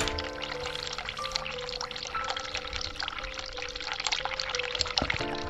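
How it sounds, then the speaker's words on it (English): Hot water runs from a sink tap in The Cat Lady video game, a continuous pouring, splashing stream that holds steady at moderate loudness over faint background tones. "Turn on hot water."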